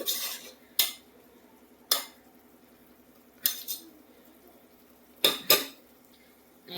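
A utensil mixes vinegar into mushroom rice in a pot, making a handful of sharp, close metallic clinks and scrapes at irregular intervals over quiet background.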